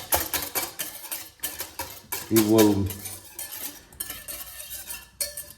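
Plant-based bread batter with flaxseed meal as a binder being mixed in a bowl, giving repeated utensil scrapes and clinks against the dish at a steady, close stirring rhythm, with a brief tonal squeak midway.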